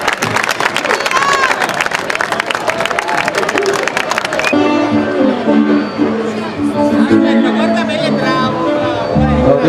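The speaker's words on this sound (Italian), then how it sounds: "Applauso fatto al padrino del nostro Ciclo." Crowd applause for the godfather of a festival procession in Barra, dense clapping and cheering for about four seconds, then giving way to band music and crowd noise.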